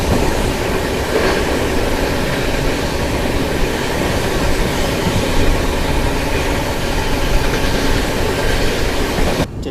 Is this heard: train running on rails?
yes